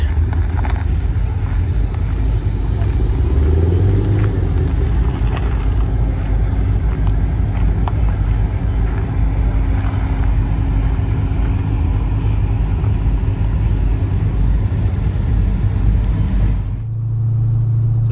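Holden Commodore cars, including HSV VF GTS and VF Commodores, cruising in a club convoy, heard as a steady engine drone and road and wind roar from inside a moving car, loud and continuous.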